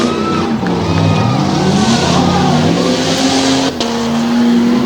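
Two Jeep Grand Cherokees race at a Tuff Trucks event in Hughesville, their loud, strained engines roaring and revving close by in overlapping, shifting tones with no break.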